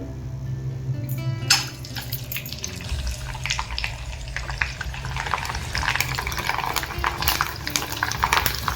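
Rice sandge, sun-dried rice papad, puffing up as they fry in hot oil: a steady close crackling sizzle with scattered sharp pops and brief stirring clatter, no talk.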